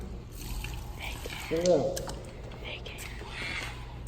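Water trickles and pours into a bucket of tile mortar mix for a basement washroom floor, a soft gurgling pour heard briefly beneath quiet whispered talking.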